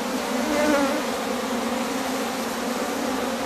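A dense, steady buzzing of many honeybees around a newly introduced queen in a hive fills the clip, close and continuous with no pauses or voices.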